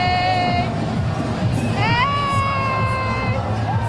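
Crowd cheering at the WorldPride parade in Washington, DC, a loud continuous roar of shouts and whoops from many people close by, with whistle-like calls rising above it.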